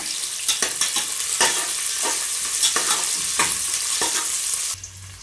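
Onions and green chillies sauté in oil for a Chettinad-style chicken biryani, giving a loud, close, steady sizzle with rhythmic stirring scrapes every half second or so, then dropping to a quieter hiss at the end.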